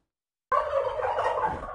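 After half a second of silence, a turkey lets out a loud, rattling gobble that carries on steadily to the end.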